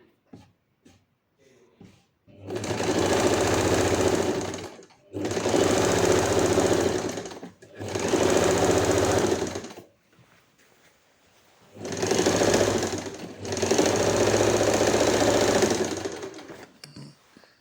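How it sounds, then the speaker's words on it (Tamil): Sewing machine running in five bursts of steady stitching, each a few seconds long with short pauses between, while the second layer of a three-layered frock is sewn; close and fairly loud, with no talk. "இப்போ செகண்ட் லேயரில் வந்து நம்ம திருப்பிட்டு கிளாத் போட்டு மேலே வந்து ஸ்டிச் கொடுத்துக்கிறேன்."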